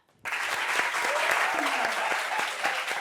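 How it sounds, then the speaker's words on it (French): Studio audience on a French TV talk show set bursts into loud, sustained applause welcoming a guest, steady dense clapping lasting the whole few seconds with a few voices mixed in. "Applaudissements là."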